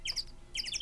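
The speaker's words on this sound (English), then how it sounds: "the birds is loud in my ear" Birds chirp in the Phoenix Wright Ace Attorney video game, two short bursts of high, quick tweets separated by a brief pause, soft and clear.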